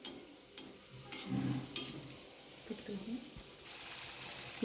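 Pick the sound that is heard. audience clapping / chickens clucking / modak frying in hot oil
modak frying in hot oil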